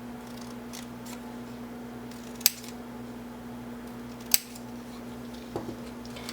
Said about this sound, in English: with the last few pieces, I actually just finished with a regular pair of scissors